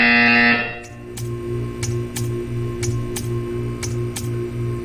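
A buzzer in Portal 2: a brief loud tone opens, then a steady electronic hum with a rhythmic series of sharp clicks or buzzes repeating about every half second.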